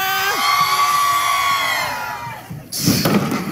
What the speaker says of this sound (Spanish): ¡la gente grita!